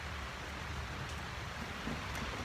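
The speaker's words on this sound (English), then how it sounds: "And it's raining pretty hard" Heavy rain pours steadily onto a backyard tent, a dense, even hiss with faint low rumbling that may be distant thunder.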